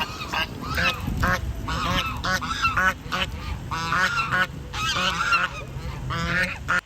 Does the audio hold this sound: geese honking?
yes